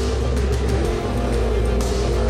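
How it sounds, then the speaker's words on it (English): Jason Gray's self-built off-road racing buggy, the Mistress, runs at a Havoc-style hill-and-hole event, its engine a loud, steady, continuous drone with slight rises in pitch. "It's Jason Gray's turn in his new buggy he calls the Mistress"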